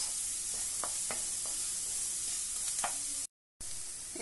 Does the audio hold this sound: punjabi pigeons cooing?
no